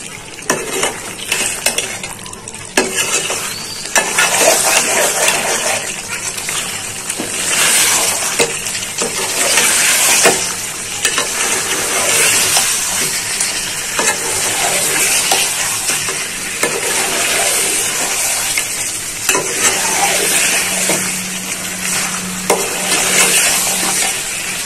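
Mutton and potatoes are stirred in a hot pan, a steady scraping and sizzling that runs throughout with continuous frying hiss and occasional clinks of the utensil against the pan.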